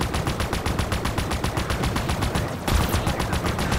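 Rapid automatic plasma weapon fire from the Halo Infinite campaign rattles in a fast, even stream of loud shots, briefly broken by a sharp burst before the rapid firing resumes.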